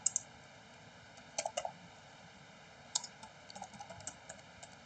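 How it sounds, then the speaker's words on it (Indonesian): Computer keyboard typing in short, irregular bursts of clicks against a low background hum, quiet and close, with no voices. "Coba kita ketik dulu ya guys."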